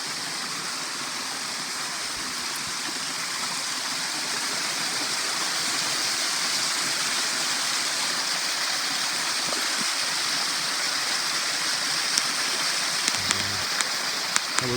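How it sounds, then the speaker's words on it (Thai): A waterfall rushes in a continuous, loud, even hiss of falling water close by, with a few faint knocks near the end. "อันนี้คือน้ำตกแล้วทุกคน"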